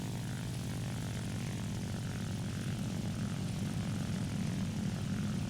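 A distant propeller aircraft engine drones steadily in the video game War Thunder, a low, continuous hum that stays fairly faint throughout, with no voices.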